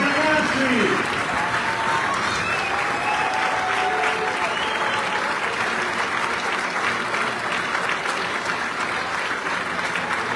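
Steady applause from an outdoor audience at a rain-soaked gala for Padua's centenary, greeting the Jesolo performers; a dense, even wash of clapping holds throughout at constant loudness, with a brief voice or whistle near the start.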